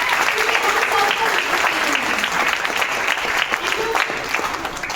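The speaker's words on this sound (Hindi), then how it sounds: "एसडीपीएस वेलनेस प्राइवेट लिमिटेड की एक बार जोरदार तालियां हो जाए।" Loud, sustained applause from an audience at a corporate event honouring SDPS Wellness Private Limited, dense clapping filling the whole stretch without pause.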